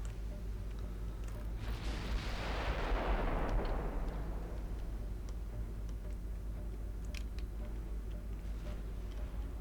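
Heavy naval gunfire in the Ultimate Admiral Dreadnoughts naval battle game, with 14-inch guns: a single loud deep boom rolls out and decays over several seconds over a steady low rumble, followed by faint sharp ticks.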